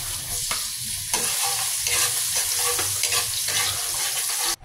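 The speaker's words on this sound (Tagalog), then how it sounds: "mag-start naman tayong mag-gisa ng bawang" Garlic sizzles steadily as it is sautéed in hot oil after frying milkfish, with a bright, constant crackle broken by the scrape of stirring. There is no talking.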